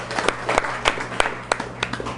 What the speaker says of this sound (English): that got to be applause